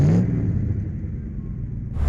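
A Triumph TR3 British sports car from the 1950s drives along, its engine a loud steady low rumble heard from inside the car, with brief louder swells at the start and end.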